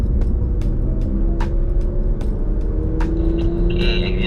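A Porsche 911 GT3 accelerating uphill on a track, heard from inside as a loud, steady engine drone with a rising tone and rumbling low end throughout, with occasional clicks and a whine toward the end.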